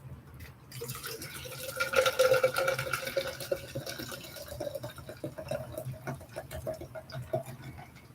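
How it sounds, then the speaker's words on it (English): Water is poured into a container, a close, continuous trickle and splash with rising fill tones, fairly quiet and alone. "Let me put my water in here."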